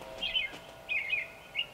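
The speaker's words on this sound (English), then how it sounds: "Robins are whistling." Robins whistling in a short series of three bright, rising-and-falling phrases, fairly clear and close, with quiet background and no talking.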